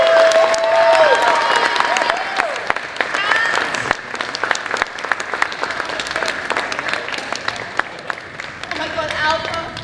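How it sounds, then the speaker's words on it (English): Crowd applause and cheering at a gaming expo cast interview, with whoops and shouts riding over uneven clapping that dips midway and swells again, voices calling out throughout. "Please slap those hands again."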